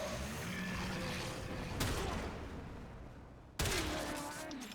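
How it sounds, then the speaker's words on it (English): Gunfire in a video game using the Prime Chamber perk, two sharp shots a couple of seconds apart over steady loud background game noise. "I'm going to shoot it with Prime Chamber and then without Prime Chamber"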